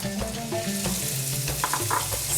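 Chopped onion sautés in hot vegetable oil, a close, continuous sizzling crackle with a few light stirring taps.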